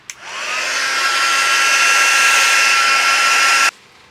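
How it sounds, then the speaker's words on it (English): A hair dryer blowing on a watercolour painting, a steady loud whooshing roar with a whining tone that starts abruptly, holds for over three seconds, then cuts off. "Let's get the magic dryer on that again."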